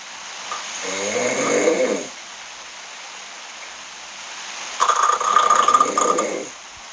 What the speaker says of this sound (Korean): 이렇게 코골이를 지금 하고 있는 이제 사운드를 직접 또 확인하실 수 있어요